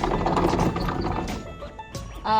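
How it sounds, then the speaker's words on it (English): A rolling, rattling metal slide with a few clanks as a chicken coop door on wheels runs along its metal track and shuts, followed by a short voice. "we'll show you how the door shuts right now."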